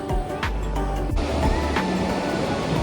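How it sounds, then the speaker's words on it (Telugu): Jog Falls waterfall roaring through thick fog, a steady loud broadband rush of falling water filling the whole span, with faint low rumbles and no talking. "వాటర్ ఫాల్ సౌండ్ అయితే ఫుల్గా ఉంది, బట్ ఈ ఫాగ్ వల్ల ఏం కనిపించట్లేదు కూడా."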